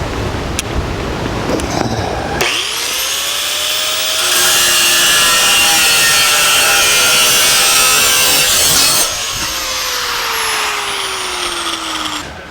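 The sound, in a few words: sawing through a 1949 Chevrolet subframe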